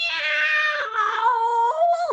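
A human voice imitates cats singing on a wall with a long, wavering, drawn-out yowl that slides in pitch and ends abruptly. The caterwauling is loud and close.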